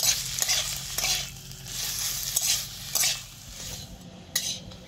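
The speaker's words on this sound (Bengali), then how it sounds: "এই নারকেলটাকেও ভালো করে মিশিয়ে হালকা একটু ভেজে নেব।" Grated coconut is stirred and fried in a pan for a sweet vermicelli dish, with a steady sizzle, a spoon scraping and tapping against the pan in a regular rhythm, and a close, moderately loud sound without talk.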